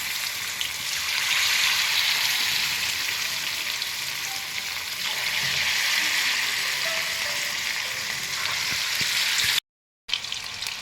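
Chicken pakoras deep frying in oil over a gas flame, a loud, continuous bubbling sizzle close by, steady throughout with a momentary dropout near the end.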